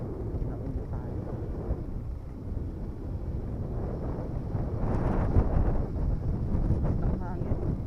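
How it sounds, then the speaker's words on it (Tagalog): Strong wind buffets the microphone in a steady, heavy low rumble while travelling a road shortcut from Marilao toward the Philippine Arena, growing slightly louder and rougher toward the end. "Ang hangin."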